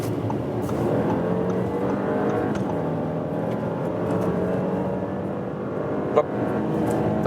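A 3.0 V6 petrol Audi A6 55 TFSI accelerates from 70 to 120 km/h with a steady, smooth engine drone that holds its pitch and loudness, plus one brief knock near the end.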